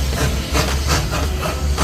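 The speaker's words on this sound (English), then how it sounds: "There's the train." A park train at Busch Gardens Tampa passes close by, giving off a loud, steady hiss of steam over a low rumble.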